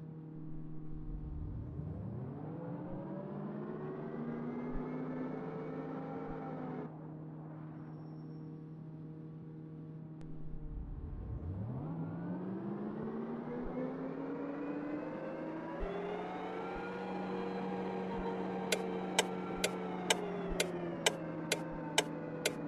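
A car in a driving test pulls away on a slope using brake, throttle and clutch without stalling: the engine revs climb and fall through gear changes, close and steady, with rapid ticking near the end.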